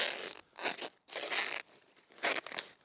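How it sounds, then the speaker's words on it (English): A Stanley knife slices through weed fabric around a grid shed base, giving several close, rasping tearing strokes in short bursts separated by brief pauses. "I'm just going to go around with a Stanley knife and make sure that the weed fabric is cut back nice and neat."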